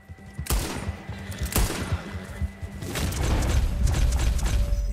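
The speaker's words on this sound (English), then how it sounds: "I had to shoot his horse a bunch, but I got him." Gunfire in the Western video game Red Dead Redemption 2 as a rider's horse is shot repeatedly: several sharp, loud shots in quick succession, then a rumbling mechanical clatter, with no speech over it.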